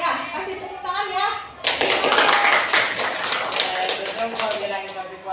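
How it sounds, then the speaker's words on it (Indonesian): A teacher speaks to a school class, then the children burst into loud, brisk clapping for group 3 that carries on steadily to the end, with young voices mixed in. "kasih tepuk tangan untuk kelompok 3"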